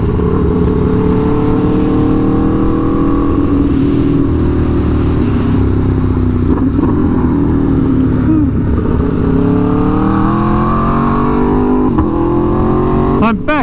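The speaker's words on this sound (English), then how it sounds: "my 2017 Aprilia Tuono V4 1100 factory with the glorious SC Project CRT exhaust" A 2017 Aprilia Tuono V4 1100 Factory motorcycle fitted with an SC Project CR-T exhaust cruises along a coastal road, its engine droning loudly and steadily with rising and falling revs throughout.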